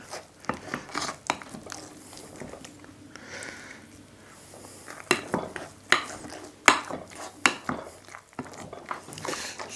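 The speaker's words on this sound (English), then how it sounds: "Again, I find the masher is very effective." A masher working gluten-free, inulin-free bun dough in a bowl, giving close, uneven clinks, taps and soft squelching scrapes as it presses and mixes, with no talk.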